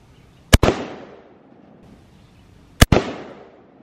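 Two loud, sharp gunshots from a Mosin Nagant rifle about two seconds apart, each a close crack followed by a rolling, fading echo.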